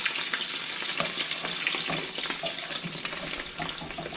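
Fish patties fry in a pan with a steady, close crackling sizzle that runs throughout, with a few faint knocks and splashes over it and no talking.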